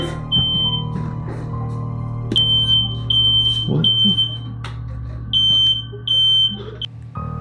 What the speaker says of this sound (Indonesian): terdengar juga alarm kebakaran rumahnya tiba-tiba berbunyi